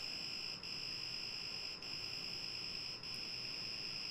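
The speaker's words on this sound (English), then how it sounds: "we still have the alarm going off" An electronic alarm sounds a continuous shrill, high-pitched tone that cuts out briefly about every second and a half. It is heard alone over a faint background hiss.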